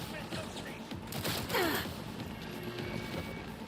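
Gunshots ring out during a livestream: a brief cluster of sharp bursts over a noisy background, with a voice talking around them.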